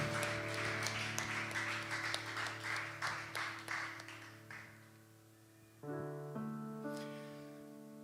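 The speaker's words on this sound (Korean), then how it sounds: "우리를 이 땅 가운데 교회로 부르신 하나님께 감사의 박수 올려드리겠습니다" A worship congregation applauds in thanks, a broad wash of clapping over sustained praise-band music that thins and fades after a few seconds while the music carries on.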